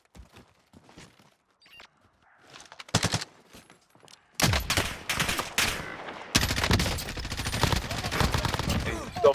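Gunfire in Call of Duty Warzone: sparse faint shots at first, then a loud burst of rapid automatic fire. It pauses briefly, then resumes as dense, sustained volleys that continue to the end.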